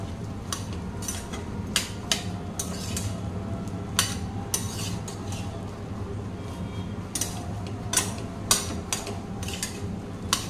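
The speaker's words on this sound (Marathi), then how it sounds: "असं छानपैकी मिक्स करून घ्यायचं आहे तुम्हाला पूर्णपणे." Egg bhurji rice being stirred and mixed in a pan, with steady scraping and clinking of a utensil against the pan, soft sizzling underneath and a few sharper knocks spaced through, close and moderately quiet.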